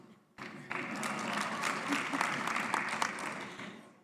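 Conference audience applauding a presenter at an education sector gathering, a sustained wash of many hands clapping that swells quickly and fades out over a few seconds.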